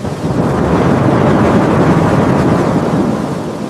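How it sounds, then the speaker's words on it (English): Heavy rain pours down steadily with a deep rolling rumble of thunder, a loud dense wash of sound that swells and holds without a break and carries no voices. "The rain was coming down like bullets from heaven."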